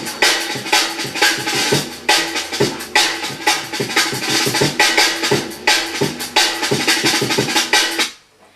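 A sped-up breakbeat drum loop at drum and bass tempo, its bottom end thinned out, with slapping snare hits and fast rolls repeating in a steady, busy pattern that plays loud and alone before cutting off near the end.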